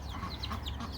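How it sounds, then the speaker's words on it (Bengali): Chickens clucking softly in the morning, a few short chirpy clucks in quick succession from a small flock of hens and chicks, faint and close, with no voices. "রায়ান সকালবেলা দেখেন কি করতেছে মুরগি নিয়ে।"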